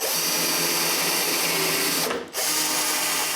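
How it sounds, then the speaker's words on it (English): A power drill whines steadily up close drilling aligning holes in the wooden case of a dresser, briefly cutting out and then starting again with the same sustained high-pitched buzz. "Since both cases will be one on top of the other, I drill aligning holes."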